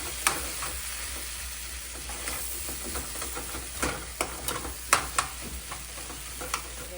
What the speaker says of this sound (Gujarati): તળી રહી છે ગૌરવ આજે કચોરી તળે